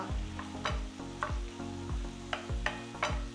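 Prawn thecha mixture with a pinch of turmeric being stirred in a hot pan, a rhythmic series of loud scraping strokes about every half second over a continuous soft sizzle.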